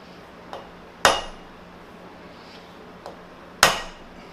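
Hammer taps on the flange of a weld build-up workpiece held in lathe jaws: four sharp metallic knocks, two soft and two loud, in a quiet shop with a faint steady hum.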